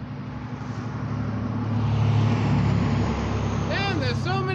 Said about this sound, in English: there's so many cars out today. And trucks